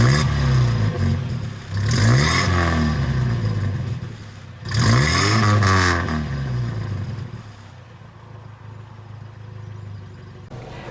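A 1960 Hillman Minx Series IIIA classic car drives along, its engine revving up through two rising accelerations with audible gear changes before settling into a steadier, quieter cruise with road rumble.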